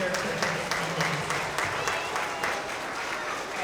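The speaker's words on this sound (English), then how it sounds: "Let's give a round of applause for our TK and Kinder for attendance" An audience at a school award assembly for kindergarten and first-grade pupils claps steadily, a dense patter of many hands with quieter voices mixed in underneath.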